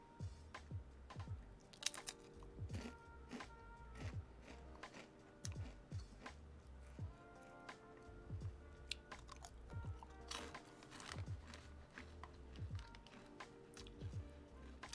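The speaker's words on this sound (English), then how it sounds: "Can you hear me chewing, by the way?" Close, wet chewing and crunching of food in a steady rhythm of bites, loud against a quiet room, with a few sharper crunches and no talking.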